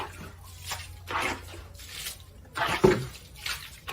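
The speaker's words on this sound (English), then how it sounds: "Just bailing water." Water being bailed from a flooded hall, with repeated splashing scoops and pours in an uneven rhythm of about five bursts, fairly close, with no talking.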